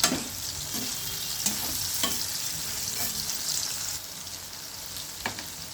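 Pumpkin pieces fry in a pan with a continuous sizzle, broken by several sharp stirring knocks and scrapes of a spatula; no talking.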